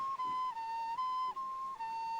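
A fife plays a soft, pure woodland-flute melody of a few sustained notes with brief breaths between them, heard alone and fairly faint in a scene set among Gascon soldiers.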